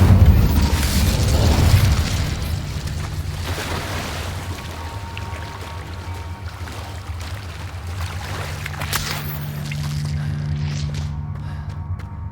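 An Incendio fire spell cast in a Harry Potter video game, a loud whooshing burst at the start that settles into a steady roaring, crackling fire bed with a low rumble, fading slightly and swelling again toward the end.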